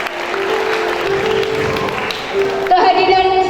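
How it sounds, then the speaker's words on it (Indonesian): Applause from the audience at a combined graduation ceremony at an Islamic boarding school, a dense, steady wash of clapping that runs the whole time. A sustained tone sits over it, and the clapping swells near the end. "Tepuk tangan untuk kita semuanya."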